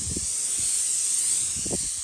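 An airless paint sprayer laying a mist coat of primer on a wooden door outdoors in light wind, a steady close hiss with faint low rustles underneath.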